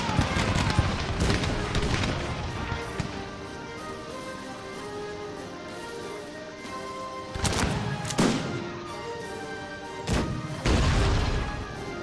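Musket volleys fire in the real-time strategy game Cossacks 3 during a France match: bursts of loud crackling gunfire at the start and again late on, with a steady battle din between and no voices.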